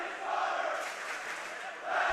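Crowd noise in a packed gym at a high school basketball game between OLSM and De La Salle, a broad roar of cheering and shouting that swells at the start and again at the end.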